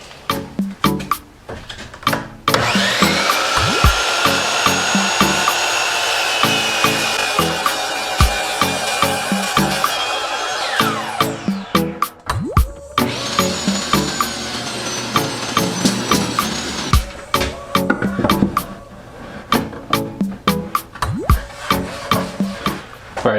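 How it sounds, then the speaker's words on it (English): A powered miter saw cuts twice in a workshop, each time a loud whining motor spin-up and a long buzzing pass through wood, set among dense bursts of sharp knocks and clatter. "We're going to run this saw through its maiden cut."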